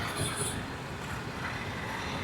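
A Kochi metro train runs along an elevated line with a steady low rumble and faint wheel hiss, heard from a distance against background street noise.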